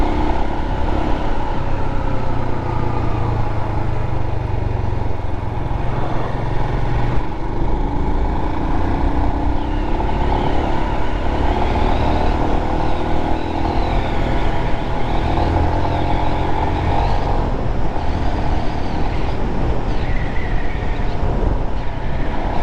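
A Royal Enfield Himalayan motorcycle on cross trail tyres rides along a wet road, with a continuous loud engine drone and wind rush, rising and falling slightly in pitch with throttle changes.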